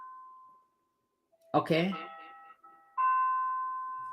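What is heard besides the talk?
doorbell ringing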